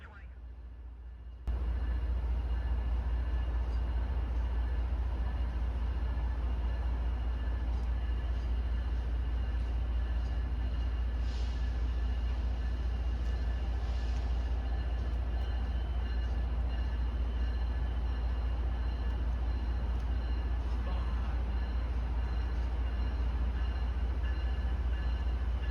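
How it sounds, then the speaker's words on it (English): Amtrak trains moving around Boston's South Station, a steady low rumble of engines and rolling stock that holds throughout at moderate distance, with faint higher rail tones and some talk under it. "Here are some Amtrak trains moving around South Station."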